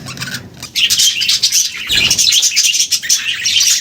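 A colony of budgerigars chirps loudly and continuously, many birds overlapping in a dense, bright chatter with no pauses, close by.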